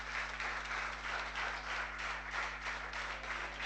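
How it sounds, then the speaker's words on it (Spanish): Congregation applause at a church service fills the stretch, a steady, moderately quiet wash of many hands clapping with a low hum underneath. "dale un aplauso al Señor si vos lo disfrutás entonces"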